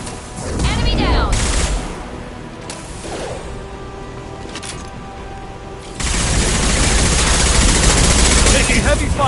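Heavy gunfire in the Mass Effect 2 video game, dense bursts of rapid shots with mechanical clatter and booms, easing mid-clip before a loud sustained barrage resumes up close.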